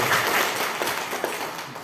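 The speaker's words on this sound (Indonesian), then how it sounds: "Tepuk tangan dulu untuk kita semua." Audience of teachers and staff at a school retreat gathering clapping together, a short burst of dense applause that fades slightly toward the end, with no speech over it.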